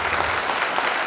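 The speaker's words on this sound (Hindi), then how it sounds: "चेयरमैन सर ने पूरी टीम को एक बार जोरदार तालियां" A hall audience gives a short, dense burst of steady clapping, loud and close, with no voices over it.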